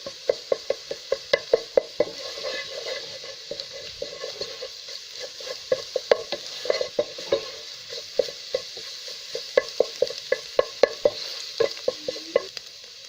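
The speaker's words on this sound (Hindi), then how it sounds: "मुसलसल चम्मच हिलाते रहें। और इस तरह अंडों का चूरा बना लें।" A spoon scrapes and taps steadily against a pan while scrambled eggs sizzle softly underneath, a quick repetitive clatter throughout, for vegetable fried rice.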